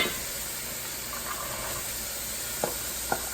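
Butter melting with a cup of chopped white onion in a pot gives a soft, steady sizzle, fairly quiet and even, with a couple of faint clicks near the end.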